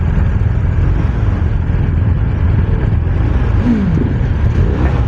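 A 2024 BMW R 1250 RT with its boxer twin engine runs under way, a loud continuous low rumble with steady engine and wind roar throughout, no talk.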